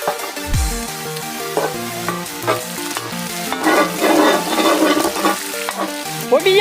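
Chopped ginger and garlic stir-fry in cold-pressed sesame oil with country chicken, a steady sizzle broken by scraping stirs of a spoon against the pan, with music playing over it.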